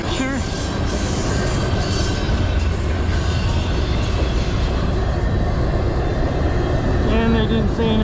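CN intermodal freight train hauled by locomotives, passing near and loud as a steady continuous rumble of rolling cars with rail clatter, with a faint horn-like tone near the end and no talk.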